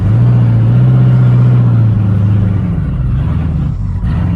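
A twin-turbo 2019 Camaro ZL1 with a TH400 transmission on the move, its engine a loud, deep droning rumble heard from inside that rises in pitch and then eases off.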